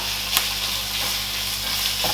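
Bacon and finely chopped onion sizzle steadily in a pan, a continuous close frying hiss with a few faint stirring clicks and no voices.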